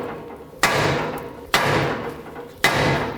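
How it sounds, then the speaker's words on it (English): Three sharp hammer blows strike the steering knuckle of a 2007-2010 Chrysler Sebring to free the tie rod stud, each a loud metallic bang with a short ringing decay, about one second apart, close by and alone. "Now you want to hit the knuckle right here."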